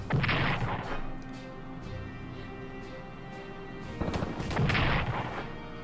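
Naval gunfire from a battleship in the wargame Strategic Command: 1939 Storm over Europe, heavy booming shots with rumbling tails, one burst at the start and another near the end, moderately loud and alone.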